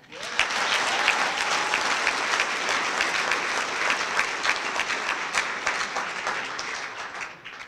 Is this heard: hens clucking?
no